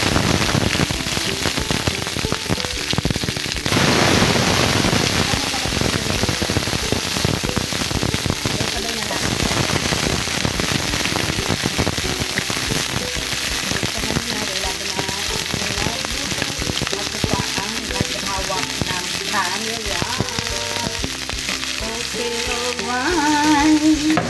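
Tomato, onion and garlic frying in a hot pan for chicken pacham, a loud continuous sizzle and crackle with stirring, close up, with someone speaking faintly at times.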